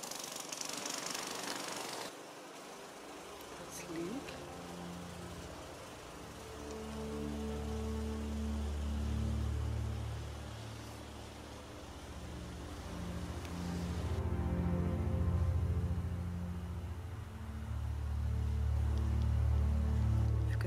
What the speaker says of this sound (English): One of the other neighbors is mowing their lawn already at this time.